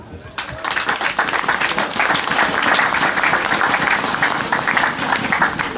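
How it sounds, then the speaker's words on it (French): An awards-event crowd breaks into sudden applause for the winners, a dense burst of many hands clapping that starts abruptly and carries on strongly and evenly to the end. "Alors je vous demande de les applaudir."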